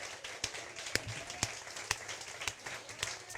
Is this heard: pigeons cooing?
no